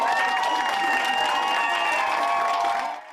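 Sustained applause with scattered cheering for 55-year-old Elber Soriano, a COVID-19 survivor leaving hospital, steady and dense throughout before dropping off abruptly at the very end.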